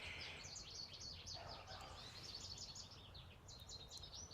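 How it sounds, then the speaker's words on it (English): Wild birds singing outdoors, a dense continuous wash of chirps and trills over steady low background rumble, moderately faint and without talk. "I hope you can hear the birds."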